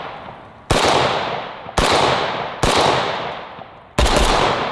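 AK-74 rifle fired in four separate loud, sharp shots spaced about a second apart, each followed by a long ringing decay, with no voices.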